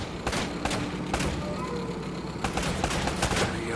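Gunfire rings out in an Uncharted video game firefight, repeated sharp shots and bursts crackling steadily throughout, with a voice briefly heard over the shooting.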